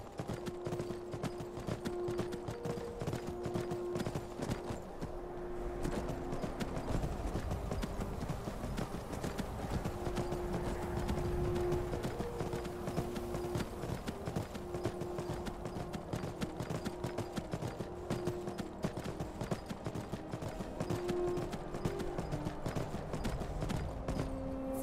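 Horse hooves clip-clopping steadily in the Skyrim video game, a continuous rhythmic trot-to-gallop beat that runs throughout at moderate loudness, with a faint tonal hum of game ambience beneath.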